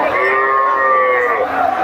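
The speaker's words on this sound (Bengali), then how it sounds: "আপনারা দেখতে পাচ্ছেন ফিজিশিয়ান জাতের গরু।" A Friesian cow at a busy cattle market lets out one long, loud, steady moo, close by, fading slightly at the end over low crowd noise.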